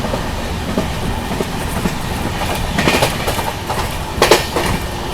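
A Jaipur–Mumbai nonstop special train runs at speed on its rails, a loud, continuous rumble and rush with rhythmic clickety-clack of wheels over joints and occasional sharper metallic squeals.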